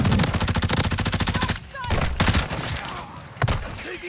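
Rapid bursts of automatic gunfire in a Call of Duty Modern Warfare II multiplayer hardpoint match, loud and close, with a sustained volley followed by scattered shots and a sharp report near the end.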